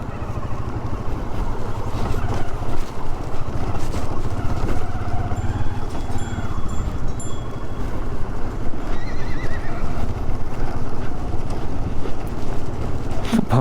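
Horses and mules on a muddy mountain road between Manali and Chandratal give a whinny over steady wind and movement noise, with shuffling hooves and occasional distant calls throughout.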